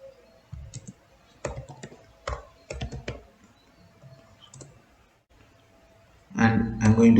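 Keyboard typing while web form code is written comes through in short clusters of crisp key clicks with pauses between them, then louder mixed noise near the end.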